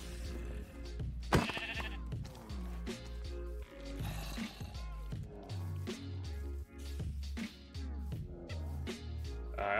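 Sheep bleat repeatedly in a video game with a farm and mobs, the cries sitting over a dense, busy game mix of music and effects that runs steadily throughout.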